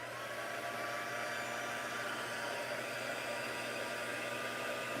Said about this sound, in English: then we got to heat this up with the embossing tool, the heat gun